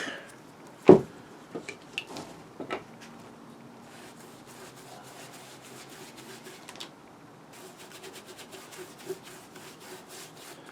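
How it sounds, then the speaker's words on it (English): Brush or rag scrubbing Varathane Golden Oak stain into wooden boards for a prop replica: one sharp knock early on, then soft, steady rubbing strokes, close and fairly quiet, with no talk. "I'm making sure that I'm scrubbing really deeply into these cracks."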